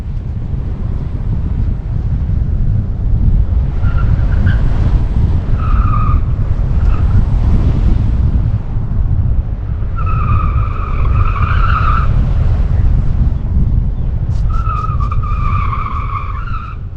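A Tesla Model 3's electric motor whines steadily under wind noise on a cone course, with repeated tire squeals as it skids through turns, close and loud.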